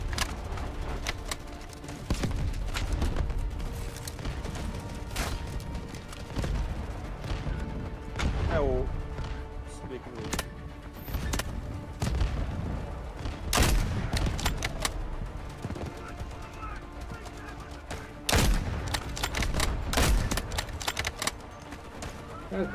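Rapid bursts of gunfire in the game Delta Force Hawk Ops, with several sharp shots crackling through a busy mix of background game noise at close range.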